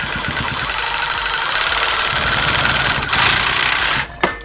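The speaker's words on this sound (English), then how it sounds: "I'll be using the sawzall." A sawzall reciprocating saw cuts through a snowmobile slider (hyfax) on a Ski-Doo, giving a loud, steady buzzing drone that runs for about four seconds before stopping abruptly, followed by a brief clatter.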